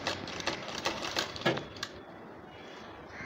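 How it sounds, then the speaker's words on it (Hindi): A sewing machine stitches a strip onto a neckline with a quick run of rhythmic mechanical clatter that stops after about two seconds, leaving a quiet room. "अब दूसरे निशान पे भी इस तरह हम सिलाई लगाएंगे ताकि ये पट्टी एक जगह अच्छे से बैठ जाए।"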